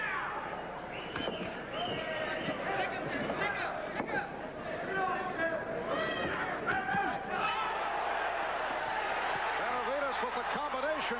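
A boxing crowd roars and shouts during a fight between Jesse Benavides and Salud, a continuous excited din with rising yells under a commentator talking.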